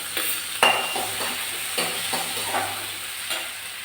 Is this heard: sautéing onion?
yes